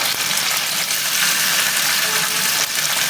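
Tibetan dumplings fry in a hot pan with a steady, dense sizzle that crackles evenly and stays loud and close the whole time, with no talking.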